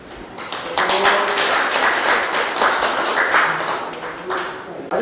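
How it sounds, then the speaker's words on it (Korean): Applause from a seminar audience welcoming a guest lecturer at an agricultural cooperative talk, a dense, steady wash of many hands clapping that swells quickly and holds for several seconds, fairly close and filling the room. "큰 박수로 맞이해 주시기 바랍니다."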